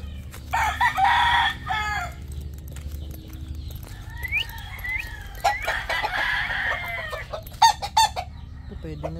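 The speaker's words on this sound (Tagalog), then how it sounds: "Check natin dito yung mga manok." Chickens cluck and a rooster crows repeatedly nearby, with scattered background noises and a low steady hum throughout.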